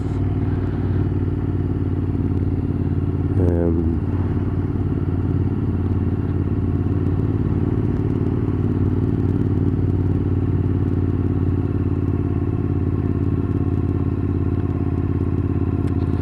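A Royal Enfield Continental GT650 twin runs on an open road, its engine droning steadily and loud throughout. Wind rumble sits over it, and there is a brief rattle partway through. No one talks.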